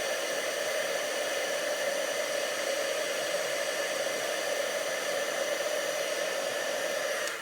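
Heat embossing tool blowing hot air to melt white embossing powder on a card, a steady loud whooshing hiss with a constant whine that holds unchanged throughout.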